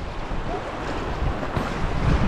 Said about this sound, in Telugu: ఇక్కడెవడో మోటర్ వేసాడండి